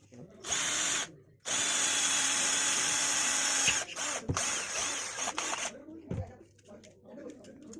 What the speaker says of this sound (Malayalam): നമുക്ക് ഡ്രിൽ ചെയ്തെടുക്കണം